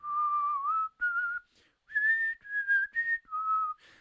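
A person whistles a spooky, wavering tune alone, with a few clear sustained phrases separated by short breaths and pauses, close and moderately loud.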